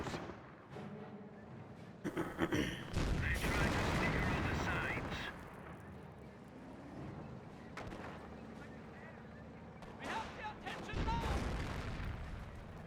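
Gunfire and heavy explosions in a Company of Heroes battle between German Wehrmacht and British forces, with loud bursts and booms clustered in waves, fading to lighter crackling before another heavy volley near the end.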